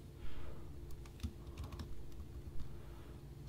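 Someone is typing code on a computer keyboard, with fairly close, irregular clicky keystrokes in short runs over a steady low background hum.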